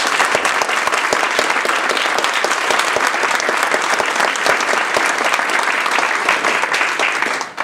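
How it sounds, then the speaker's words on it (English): A speech contest audience gives a full round of applause, loud and sustained with crisp, continuous clapping that holds steady for over seven seconds before cutting off. "How about our round of applause?"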